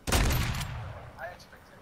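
Video game gunfire erupts in a sharp close burst of several rapid shots, then trails off into a fading echo with faint clinks, short and loud.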